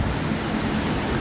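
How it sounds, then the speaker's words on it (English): Steady rain falling outdoors during a football podcast recording, a dense even hiss with no breaks or talking, fairly loud throughout. "I hope you can hear me over that rain."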